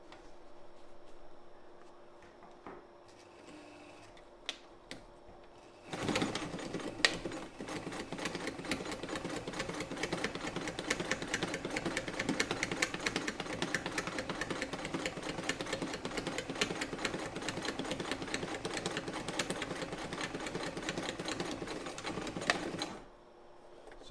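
A Frister & Rossmann 35 sewing machine, modified and geared for heavy-duty work, runs a straight stitch through two layers of a hem. After a quiet start it whirs steadily with fast, even needle clatter for about seventeen seconds, then stops abruptly.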